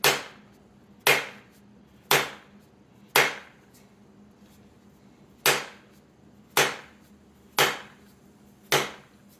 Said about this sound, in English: I can keep wailing on it with my soft touch hammer